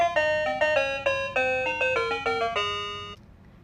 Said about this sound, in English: It will cycle through the different chime sounds.